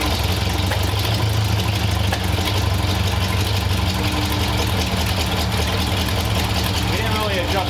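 Hot rod Ford Model A engine idling with a steady low rumble and a slight lean, uneven beat, with an exhaust leak; people talk over it.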